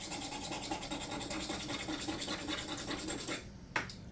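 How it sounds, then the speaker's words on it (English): A steady close rasping scrape as part of the wooden stock of a Belgian-made Eclipse Meteor 12-gauge double-barrel shotgun is filed, continuous strokes ending with a brief sharp knock near the end. "Let us slightly file that."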